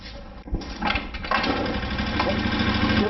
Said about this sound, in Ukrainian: Постав його на місце і мопед завівся.